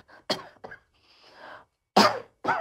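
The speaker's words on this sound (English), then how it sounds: "I want to tell you why I cough" A cough bursts out sharply, then breathy throat sounds and a pause follow before two more forceful coughs close the stretch, all close and loud with no speech.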